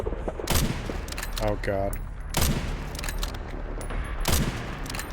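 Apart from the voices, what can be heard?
gunfire in the video game Resident Evil Requiem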